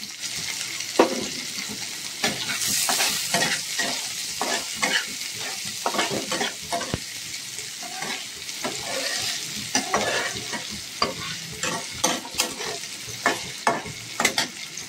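Chopped onions fry in a pan while aloo chop is prepared, a continuous sizzle broken by repeated scraping stirs of a spoon, fairly close, with no talking.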